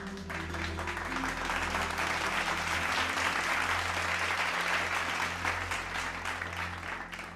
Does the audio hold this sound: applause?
yes